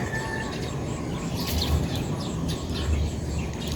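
Small birds chirp in fields at dawn, a scatter of quick, high tweets over a soft low rumble, with some cooing as well, fairly faint and spread around.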